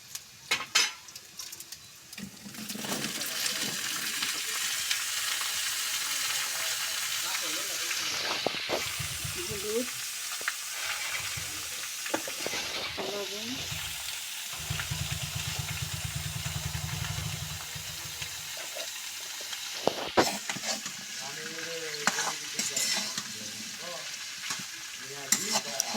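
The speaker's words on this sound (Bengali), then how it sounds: "প্রথমে সুন্দর করে নাড়া চাড়া দেওয়া হচ্ছে" Taro stalks sizzle and fry in a pan while being stirred, a steady hiss with intermittent scraping of a utensil against metal and occasional clatter. A voice talks at intervals between.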